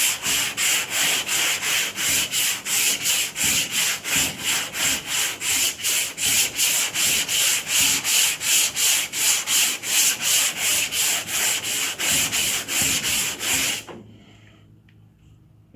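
Sanding block rasping back and forth over car body filler and epoxy primer, a loud, close, rhythmic scrubbing of roughly two strokes per second that stops abruptly near the end, leaving quiet.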